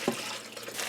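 Cold tap water pours into a kitchen pot for soup stock, a brief, soft, steady hiss of running water with a small splash at the start and no voices.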